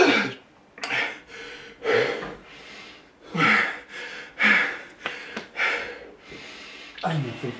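A person gasps and pants heavily after a long set of squats, with repeated loud, ragged breaths and snorts separated by short pauses, close to the microphone.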